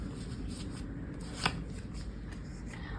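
Tarot cards from a teacup tea leaf deck shuffled by hand, a steady run of soft papery riffles and flicks with one sharper snap midway, close and fairly quiet.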